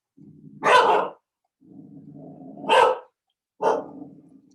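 A dog gives three separate bursts of barking, each loud and close, with quieter low rumbling or growl-like sound between them and no talking.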